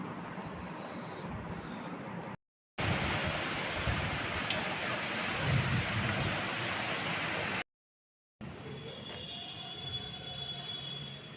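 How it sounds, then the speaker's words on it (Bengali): Steady evening rain hisses without a break, a dense, even wash of falling water with no voices. "বৃষ্টি পড়ছে এখনো"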